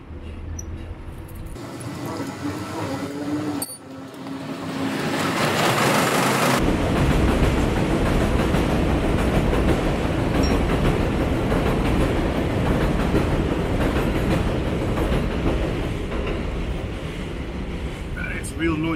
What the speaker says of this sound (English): I live right next to a train, so forgive me for all the noise